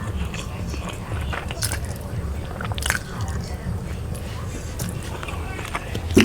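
Close, wet chewing and squishy bites as a woman eats her mother-in-law's home-cooked food, a steady run of mouth sounds and soft crunches.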